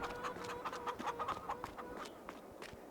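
Chickens cluck in a pair of coops in the farming game Farming Simulator 22: a steady run of short, fairly close clucks over a soft farmyard ambience, with no talk.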